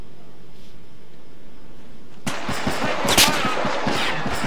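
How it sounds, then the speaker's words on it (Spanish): Gunfire in the video game Arma 3 breaks out after a quiet stretch: a rapid string of sharp shots, some close and loud, crackling on for a couple of seconds. "Estoy recibiendo disparos"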